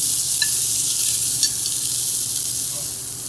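A scallop being flipped and seared in a hot pan gives a steady, close, bright sizzle throughout, with a few small ticks and pops.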